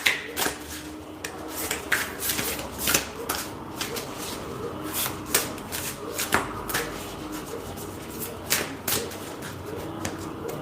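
Tarot cards are shuffled in rapid, repeated riffling bursts, close and crisp, with a short pause between bursts.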